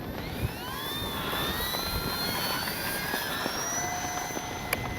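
An FMS PC-21 Pilatus RC plane's electric motor whines at a distance, its thin tone sweeping up and down as the model flies, faint beneath steady wind noise.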